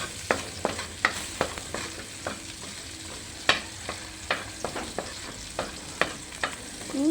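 A ladle scrapes and clanks against a noisy kawali while sweet corn and shrimp fry in the pan, giving a steady series of sharp metallic knocks over a low sizzle, close and with no talk.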